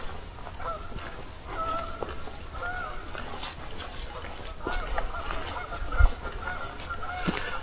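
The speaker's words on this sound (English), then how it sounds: "Got some geese above us." A flock of geese honks overhead on a spring trail walk in Valentine, Nebraska, repeated nasal calls overlapping at moderate distance over outdoor rumble and a brief thump.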